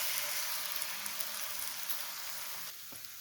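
An egg poured into a hot pan beside vegetables for kothu chapati fries with a steady, fairly quiet sizzle and crackle, easing slightly near the end.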